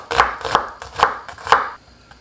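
A knife chops through an onion on a cutting board in four crisp, evenly spaced strokes followed by a lighter tap, close and clear with no talking.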